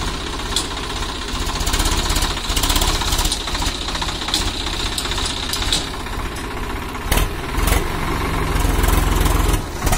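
Swaraj 744 XT tractor engine hauling a trolley loaded with wet manure up a climb, a loud, steady, knocking diesel chug running unbroken throughout, with a few sharper clanks near the end.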